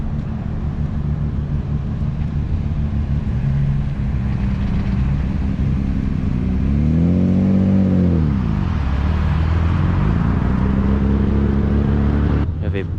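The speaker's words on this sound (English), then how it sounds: "Got an incoming R32." A Nissan Skyline R32 arrives at a car show, its engine rumbling close by and revving up and back down midway through, over a constant background drone with some voices.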